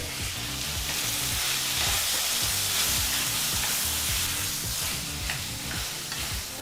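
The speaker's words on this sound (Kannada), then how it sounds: "ಸರಿಸುಮಾರು ಐದು ನಿಮಿಷ ಈ ಮೂರು ಪದಾರ್ಥಗಳನ್ನು ಫ್ರೈ ಮಾಡ್ಕೋಬೇಕಾಗತ್ತೆ" Tomatoes and a small piece of tamarind frying in a pan for ivy gourd chutney, a steady loud sizzle with spoon scrapes and stirring throughout, no talking.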